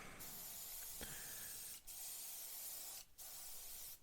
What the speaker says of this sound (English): you can do a fine spray, or you can pull the trigger right back and really dump the paint out